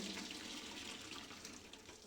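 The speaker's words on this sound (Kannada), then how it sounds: "ಈ ತೂತ್ ಪೋಸಿಗೆ ನಾವು ಆಲೂಗಡ್ಡೆ ಬೆಂದಿರೋ ನೀರನ್ನ ಹಾಕೋಬೇಕಾಗುತ್ತೆ" Water from boiled potatoes pours through a perforated strainer in a home kitchen, making a faint, steady, continuous splashing trickle with no voices.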